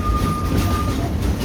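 A Silver Dollar City excursion train rumbles along at a steady, loud, close level, with continuous rolling rail noise and a faint tonal whine underneath, and no speech.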